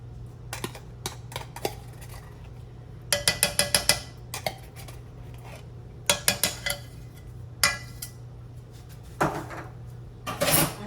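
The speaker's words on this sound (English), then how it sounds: "we'll just get it out of the can with a butter knife." A butter knife scrapes tomato paste out of a can, giving bursts of metallic scraping and clinking in short clusters separated by pauses, close up, over a low steady hum and with no talking.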